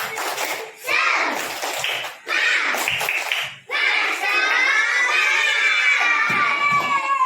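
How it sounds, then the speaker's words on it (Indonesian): Schoolchildren in a classroom do a rhythmic spirit clap chant, with loud bursts of shouting and clapping in short phrases, then a long stretch of sustained high-pitched children's voices. "Kita mau dengar tepuk semangat."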